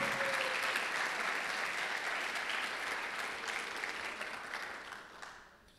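A church congregation applauds steadily and loudly for several seconds at a sermon, the dense clapping holding level before tapering off near the end.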